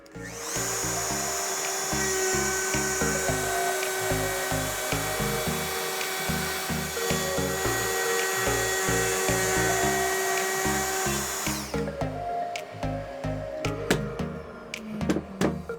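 A power tool plunge-cutting into wood for a workshop shelf gives a loud, steady high whine with a pulsing low drone for about eleven seconds, then cuts out, followed by scattered clicks and knocks.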